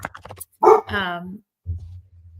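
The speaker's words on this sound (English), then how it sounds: "Barking dog" A couple of sharp close dog barks and a drawn-out yelp, followed by a brief low sound, loud against a quiet background.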